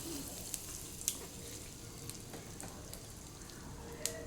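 A tempering of chana dal, dried red chili, asafoetida and curry leaves crackles softly in hot oil, a faint, even sizzle with a few small pops.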